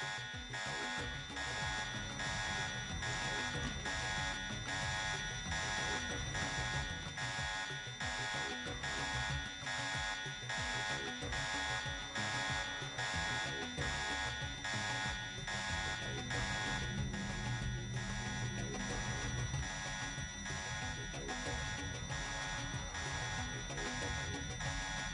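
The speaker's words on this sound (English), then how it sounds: "Is that alarm gonna stop anytime soon?" An alarm blares in the video game Deus Ex, a loud pulsing buzzer repeating at a steady quick rhythm, continuous throughout over faint background sounds.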